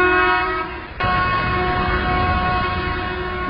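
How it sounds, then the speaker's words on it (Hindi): An Indian Railways locomotive horn sounds a loud, steady tone, briefly dipping near the one-second mark and then holding on to the end. No voices are heard. "ड्राइवर जब एक छोटा हॉर्न देता है तो पीछे गार्ड को तैयार रहने का संकेत देता है।"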